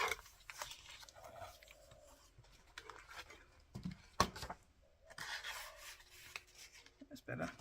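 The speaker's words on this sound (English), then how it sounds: "I'm just going to trim the edge off so it's not hanging over the edge." Scissors or a blade trim the edge off a paper journal pocket, giving quiet close rubbing and snipping sounds with a few sharp clicks, faint and intermittent.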